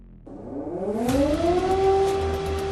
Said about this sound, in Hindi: युद्ध के गूंजते सायरन से सनसनी फैल गई।